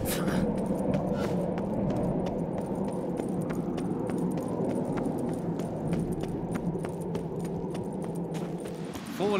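Horse hooves clip-clop steadily in The Witcher 3, a continuous run of evenly spaced, moderately loud hoof strikes over a dense, constant game background, with no one speaking.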